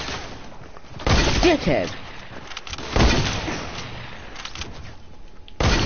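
Dual pistols fire in a Fortnite match, a few sharp, loud gunshot bursts around one and three seconds, spaced out over game noise, with someone briefly speaking.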